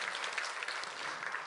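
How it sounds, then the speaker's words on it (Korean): Worshippers at a Sunday church service applaud in a brief, continuous burst of dense clapping, steady and even throughout. "한번 박수 올려드립시다"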